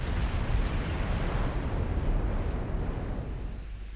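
Warship main guns firing in Ultimate Admiral Dreadnoughts, a heavy, rumbling boom with a long, dense roll that fades slowly over several seconds.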